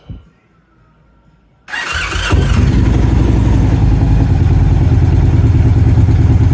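A quiet lull, then a 2012 Victory Cross Country Tour motorcycle engine cranks and catches around two seconds, settling into a loud, steady, throbbing idle close by.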